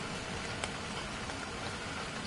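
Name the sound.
rain in the video game ARK, Ragnarok map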